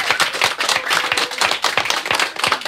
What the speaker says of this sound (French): Vous pouvez vous applaudir et même crier,